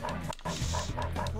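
A dog barks in the video game Dog's Life, several close barks and whimpers mixed with talk throughout.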